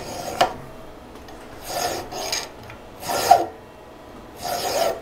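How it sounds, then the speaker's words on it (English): A hand file rasps across a steel sprocket in four separate bursts of strokes, each a scraping back-and-forth rub of a few tenths of a second, close and fairly loud, with quiet gaps between and no talking. "I want to try that file thing."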